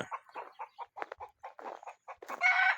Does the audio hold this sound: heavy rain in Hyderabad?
no